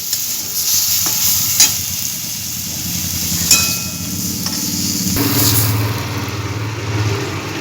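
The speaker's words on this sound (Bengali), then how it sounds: "নুন সর্ষের তেল দিয়ে দিয়েছি কড়াইয়ে এরপর আমি পটলগুলোকে ভেজে নেবো" Pointed gourd slices frying in mustard oil in a kadai, giving a loud, continuous close sizzle with occasional spatula scrapes and knocks and a low background rumble.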